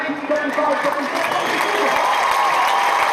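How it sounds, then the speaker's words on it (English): Crowd applause in a high school gym at a basketball game, a loud, dense wash of clapping and cheering filling the whole short moment. "Ladies and gentlemen, a round of applause,"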